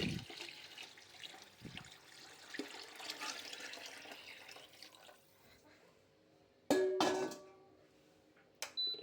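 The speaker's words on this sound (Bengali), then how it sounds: "এবার এর মধ্যে করে পরিমাণ মতো পানি দিয়ে নেব" Water pours into a pot of rice and lentils for vegetable khichuri, with soft splashing and running water early on, then a quieter stretch with a few sharp clinks and knocks near the end.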